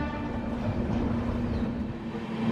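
An Amrit Bharat Express push-pull train runs at speed, giving a steady low rumble with a sustained hum from inside the coach.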